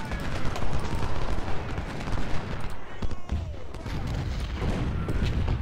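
Artillery and gunfire rumble through a Civil War battle in Ultimate General: Civil War, a dense continuous barrage of booms and crackling shots layered over one another, with a voice talking underneath.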